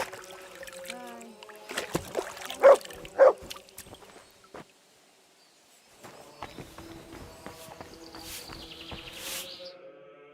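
A dog in the medieval game Kingdom Come Deliverance 2 gives two loud, short barks close by amid quiet ambient game sounds, with soft background noise and other incidental sounds following.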